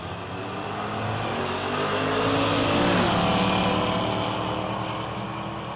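Drag race cars, a Chevy II and a Camaro, roar through a loud, sustained engine run, revving rise peaking midway with shifting pitch, no voices over the racket.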